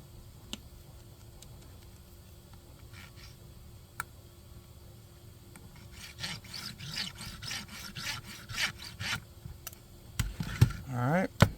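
A vacuum-molded holster is cut and trimmed, starting with a few faint taps and then shifting to rhythmic rasping, scraping strokes that grow louder and denser toward the end, heard up close.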